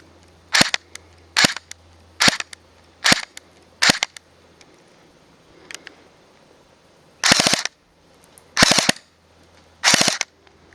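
An airsoft gun fires BBs with its hop-up lightly adjusted. Five sharp single shots come in even succession, then after a pause three longer rapid-fire bursts rattle out, loud and close.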